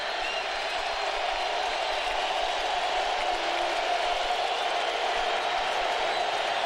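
Steady stadium crowd roar at an NFL football game between the Dallas Cowboys and Atlanta Falcons in 2006, a dense continuous wash of cheering that holds at an even level throughout with no individual voices standing out.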